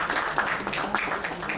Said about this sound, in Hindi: और जोरदार तालियां उस कैंडिडनेस के लिए।